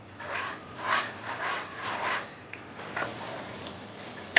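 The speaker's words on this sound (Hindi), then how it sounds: "मैं इसको मुसलसल चम्मच चला रही हूँ इसके अंदर, क्योंकि इसको अच्छे तरीके से भूनना है।" A spoon scrapes and stirs makhandi halwa as it roasts in a pan, giving soft, rhythmic rubbing strokes at a close, quiet level with a small knock near the end.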